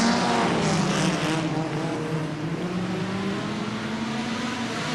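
Hot rod race cars on a wet, slippery oval track, a steady loud engine drone passing close with a slowly shifting pitch, continuous for several seconds with no talk.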